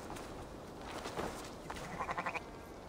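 Sheep bleat in a farm scene in the video game Assassin's Creed Valhalla, with a few short bleats near the middle and a quick run of pulsing cries toward the end over steady background ambience.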